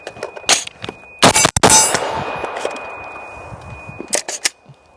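Shots from a PSA Sabre 16-inch rifle ringing steel targets: sharp loud cracks, each followed by a bright metallic clang and ringing tail, a couple early, a cluster near the middle and a few quick ones at the end.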